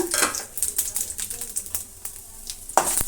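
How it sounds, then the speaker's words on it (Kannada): Dried red chillies, chana dal, urad dal and cumin frying in a little oil, giving soft crackling pops and light utensil taps, close and irregular, with no talk. "ನಾಲ್ಕು ಬ್ಯಾಡ ಮೆಣಸಿನ್ಕಾಯಿ ಒಣಮೆಣಸಿನ್ಕಾಯಿ ಒಂದು ಸ್ಪೂನಷ್ಟು ಕಡಲೆಬೇಳೆ ಕಾಲು ಸ್ಪೂನಷ್ಟು ಉದ್ದಿನಬೇಳೆ ಸ್ವಲ್ಪ ಜೀರಿಗೆ ಹಾಕಿ ಫ್ರೈ ಮಾಡೋಣ"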